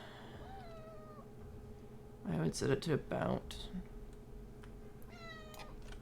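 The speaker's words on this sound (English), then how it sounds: "my cat decided to say her hellos too" A female cat meows several times in a cluster midway through, clear and fairly close over a low background hum, while a person talks quietly at moments before and around it.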